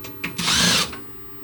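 Cordless power drill removing screws from the back piece of a Brightline SeriesONE LED retrofit kit: two brief blips, then a short rising whir lasting about half a second, close and loud.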